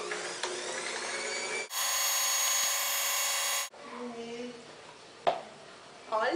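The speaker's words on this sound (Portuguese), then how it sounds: "Bater tudo na batedeira." An electric mixer beats butter, sugar and eggs for a brownie batter, running as a loud steady whir for about two seconds between quieter handling noises and a voice.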